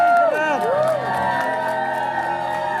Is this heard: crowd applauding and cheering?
yes